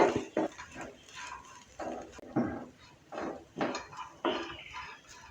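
Bitter gourd stirred in a pan with garam masala, heard as a close run of irregular scraping and clattering strokes of a utensil against the pan, with short pauses between bursts.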